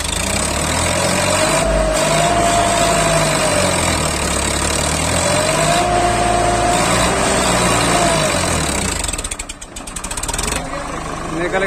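A Swaraj 963 FE 4wd tractor engine runs under load during a brick pulling test, a loud steady diesel drone with rising and falling pitch, a brief dip near the end, with outdoor background noise.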